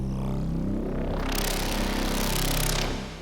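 The Reaktor Form synth plays its startup sound, a synthesized voice saying the word form: a dense, loud, sustained swell of broadband noise over low droning tones that brightens midway and fades at the end.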